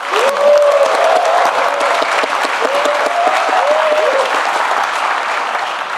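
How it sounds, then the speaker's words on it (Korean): A large audience at a Jeonbuk government town-hall event bursts into loud, sustained applause, with whoops and cheering voices rising over the clapping during the first few seconds. "아마 기죽지 말라고 이렇게 박수를 쳐주신 것 같습니다"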